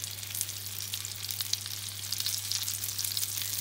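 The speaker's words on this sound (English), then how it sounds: "So leave those to fry for a couple of minutes on either side, and then use some tongs to turn them over." Chicken pieces fry in hot oil, giving a steady, moderately loud sizzle and crackle with a low constant hum underneath, and no one speaking.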